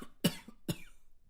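Two short, close coughs from a person with chickenpox symptoms, sharp and evenly spaced about half a second apart, in a quiet room.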